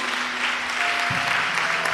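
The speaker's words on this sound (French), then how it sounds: "Applaudis très fort le Seigneur Jésus." Congregation clapping at a church prayer service, a steady, fairly faint wash of applause in a reverberant hall.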